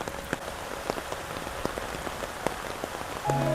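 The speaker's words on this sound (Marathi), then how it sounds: "पाऊस येतोय, ठीक आहे." Steady rain patters on a surface in Namo Garden, with scattered louder drops tapping close by; no voices, and the downpour continues evenly throughout.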